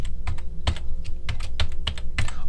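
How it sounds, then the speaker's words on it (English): Close, clattering clicks of fingers typing on a computer keyboard come in an uneven run of keystrokes, loud and alone with no talking. "Now let me show you what I'm typing in. I'm typing in this window."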